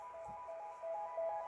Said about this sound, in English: We've got this little arpeggio,